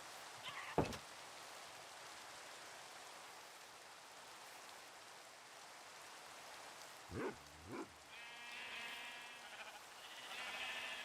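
Sheep bleat on a sheep farm in the Minecraft video game: a faint, rain-like hiss with a few soft knocks, then a couple of quiet bleats near the end.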